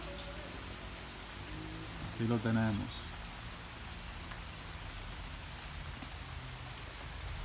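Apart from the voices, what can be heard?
heavy rain falling on the countryside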